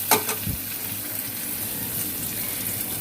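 Onion and garlic are dropped into hot oil in a pan for tempering rice, opening with a sharp burst and then settling into a steady, close hiss of frying, with no voices.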